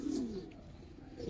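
A pigeon of a long-bodied Giribaz fancy breed gives a soft low coo, brief and close, with faint background noise and no talking.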